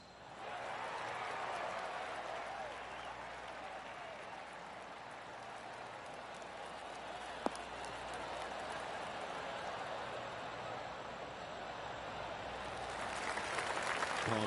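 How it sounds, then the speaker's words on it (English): Soft, sparse golf clap applause from a small crowd in a PlayStation golf video game, steady and muted throughout, with a single sharp click partway through. "Oh, golf clap."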